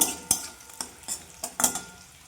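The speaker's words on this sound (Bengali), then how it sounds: "রসুনটা দিলাম রসুনটা আমি একটু ভেজে নেব" Chopped garlic frying in a kadai for a Bengali shrimp curry, with a handful of sharp spoon scrapes and taps in quick succession over a faint, close sizzle.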